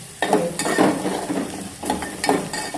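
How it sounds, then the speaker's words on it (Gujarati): Green chillies tempering in hot oil, a steady close sizzle broken by a few louder spoon-stirring scrapes in a pan, with no talking. "વઘારાઈ ગયા મરચાં. મરચાં વઘારી છે"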